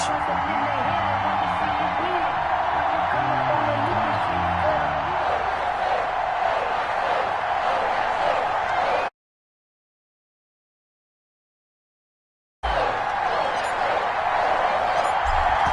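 Sold-out stadium crowd roars continuously in a Madden NFL football video game as the Patriots face the Tampa Bay Buccaneers in Foxborough, a dense broadband wash that cuts out briefly to silence before resuming.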